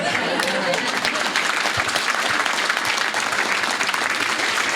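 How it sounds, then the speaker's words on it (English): Audience applauding after a book talk on politics and power in American sports, a dense, steady wash of clapping that stays loud and even throughout, with no pause. "if we get one more round of applause"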